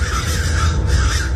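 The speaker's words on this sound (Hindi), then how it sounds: "वही कौवे थे जिन्हें अभी अभी सपने में उसने देखा था।" Crows caw loudly and close over a sugarcane field, harsh overlapping calls with no voices.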